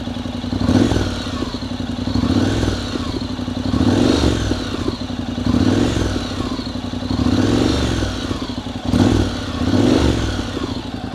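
A Honda NC750X fitted with a Delkevic 340mm exhaust idles loudly up close, with several throttle blips rising and falling in a regular rhythm over a rumbling, clattery engine note.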